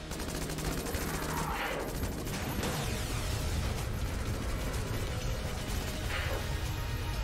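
Rapid gunfire from a revolver-type gun in the video game Enter the Gungeon, a dense continuous rattle of shots with mechanical clicks, loud and steady throughout, mixed with game sounds.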